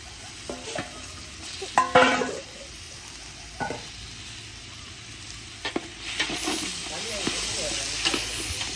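Onions, tomatoes and green chillies sautéing in a pan, a constant sizzle and hiss broken by several sharp scraping stir strokes, with faint voices in the background.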